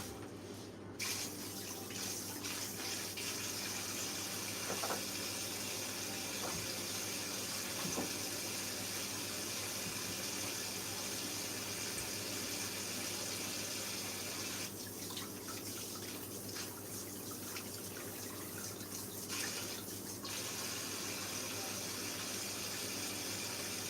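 Kitchen tap water running steadily into a sink while potatoes are washed by hand, a constant close splashing stream with brief handling knocks and shifts in the flow, and no talk.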